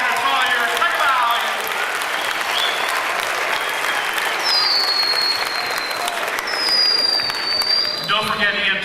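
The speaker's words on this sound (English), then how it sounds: "Give him a nice round of applause." An audience at a 1990s stage show gives sustained, loud applause after a rope magic trick, the clapping dense and continuous throughout, with a couple of whistles and a voice rising over the crowd.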